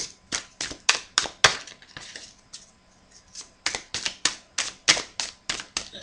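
Mystic Moon oracle card deck being shuffled by hand, a run of crisp riffling card snaps in quick bursts, with a short quieter pause midway before the rapid flicking resumes, close and alone without talk.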